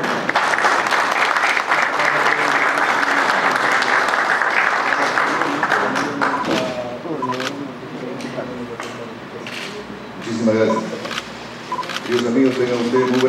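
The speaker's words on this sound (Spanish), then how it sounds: "a quien recibimos con un fuerte aplauso" A large audience at a regional government event in Moquegua applauds the regional governor of Tacna with steady, loud, dense clapping that thins toward the end, with some voices mixed in.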